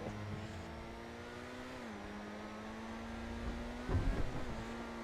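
Overflod Tyrant supercar in GTA Online, engine humming at a steady drone that dips then holds, with a brief rougher burst near the end, the car driving along a sidewalk, fairly quiet and without talk.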